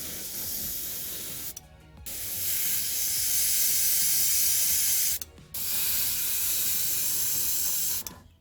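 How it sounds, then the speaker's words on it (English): An airbrush sprays Vallejo Mecha primer onto a BT-5 model tank in three long, steady hissing passes, close and bright, each broken by a short pause. "for priming the model, I'm just going to treat it with a little Vallejo Mecha primer"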